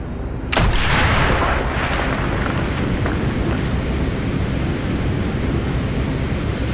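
A loud explosion blasts a hole in a wall in Call of Duty Black Ops, a sharp boom at about half a second followed by a long rumbling roar and debris wash that fills the rest of the clip, with no talking.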